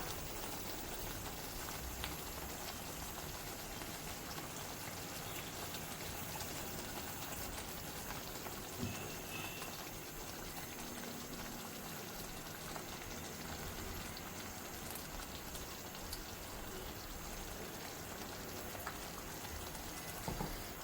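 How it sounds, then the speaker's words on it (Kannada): Mangalorean fish curry with masala bubbling in a pot, a faint, continuous crackling simmer that runs steadily throughout without talk. "ಚೆನ್ನಾಗಿ ಕುದೀಲಿ ಮಸಾಲೆ ಜೊತೆ"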